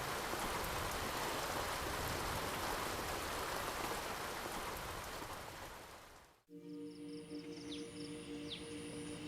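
Dense, steady roar of heavy rain pouring down in Phuket, which cuts off abruptly near the end, leaving quieter ambience with faint tones.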